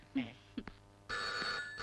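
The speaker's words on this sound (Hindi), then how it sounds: "Madam phone." An old-style telephone bell rings in a police post during a Hindi horror film scene, a loud continuous ring starting partway in after a few soft scattered sounds.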